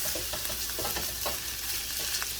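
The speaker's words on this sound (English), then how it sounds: "And just sort of stir that around for about maybe 30 seconds to a minute." Garlic and ginger sizzle and crackle in a hot pan with carrot and onions for fried rice, with a steady fry and soft stirring scrapes throughout and no voices.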